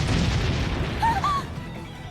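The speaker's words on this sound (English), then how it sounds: "Cannon fire?" Cannon fire rumbles as a low, continuous booming wash throughout the scene in the Bravely Default role-playing game, with brief whistling tones rising over it midway and no clear single blast standing out.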